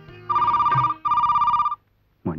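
A telephone bell rings in two loud, steady bursts separated by a short gap, close and clear with no talk over it, before a brief voice-like sound at the very end.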